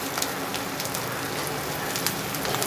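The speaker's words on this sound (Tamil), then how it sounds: "எண்ணெயிலே பார்த்தீங்கன்னா நல்லா கோல்டன் ப்ரௌனாக அப்படியே பொருந்துச்சு" Raw banana vada fry in oil with a soft, even crackle and fine spattering. The sizzle is fairly quiet and continuous, with no voices.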